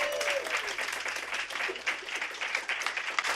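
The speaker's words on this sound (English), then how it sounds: "Give her a warm round of applause." Applause from a TEDx event audience fills the hall, a dense, steady wash of many hands clapping that runs continuously throughout at fairly loud level.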